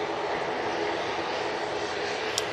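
Virgin airliner taking off from Manchester Airport bound for Orlando, a steady broadband jet engine roar heard at a distance, continuous and even throughout.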